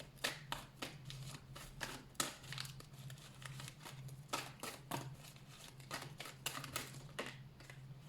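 A deck of oracle cards being shuffled and drawn, a fast run of close, crisp flicks and riffles in irregular bursts against a low steady hum, no talking.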